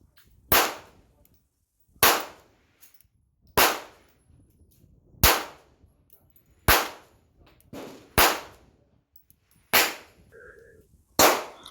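Nine sharp 9x18 pistol shots fired one at a time at a paper target, evenly spaced about 1.5 seconds apart, each a loud close crack with a short decaying tail and near silence between.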